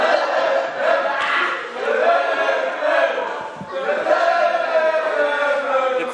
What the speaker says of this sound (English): And they're going on to give the chant